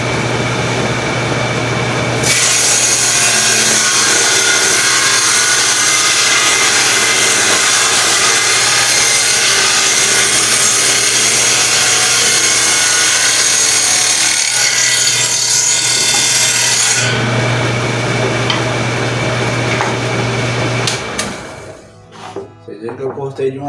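A table saw cuts through a wooden board in one long pass, a loud steady whine under load for about fifteen seconds before the motor winds down.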